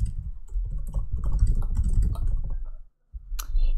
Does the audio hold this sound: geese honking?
no